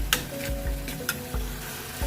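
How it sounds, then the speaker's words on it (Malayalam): An egg roast gravy is stirred in a pan after salt goes in, with close scraping strokes of the spoon repeating about every half second over a steady low sizzle. "ഉപ്പിട്ട് ഇളക്കി അതിൻ്റെ ഉപ്പൊക്കെ ഒന്ന് നോക്കണം"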